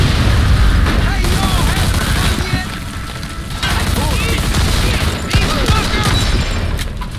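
A grease bomb explodes on a staircase in Mafia II amid loud, dense gunfire and booming blasts, with voices shouting through the sustained chaotic combat.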